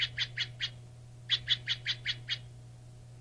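A bird calls in two quick runs of short, evenly spaced chirping notes, first four and then six, clear and fairly close over a faint steady hum.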